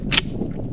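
A Mossberg pump-action shotgun fires a single sharp, loud report at an outdoor shooting range, followed by a brief fading echo, with no talk.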